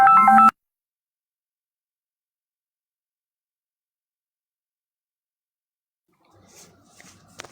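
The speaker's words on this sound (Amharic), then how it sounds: "ቆይ ይቅርታ እንዴ ስልክ ገባ" A phone ringtone from an incoming call gives one short, bright, tonal burst at the very start, then cuts to silence, with faint rustling near the end.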